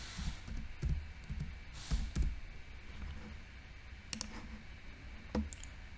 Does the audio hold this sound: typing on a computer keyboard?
yes